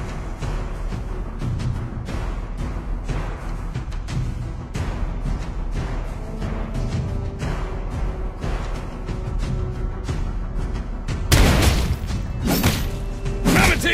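Turret destroyed in League of Legends, a loud crashing, shattering burst near the end over steady game music and thumping effects.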